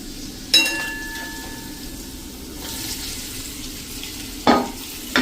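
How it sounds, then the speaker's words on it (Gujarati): Chopped capsicum and a quarter teaspoon of turmeric dropped into spices tempering in hot oil for a Gujarati capsicum sabzi, giving a sharp burst of sizzling followed by steady frying, with clinks of a stirring spoon near the end. "હવે 1/4 ટીસ્પૂન જેવી આપણે હળદર નાખી અને જે આ કેપ્સિકમ સમાર્યા છે ને એ નાખી દેશું"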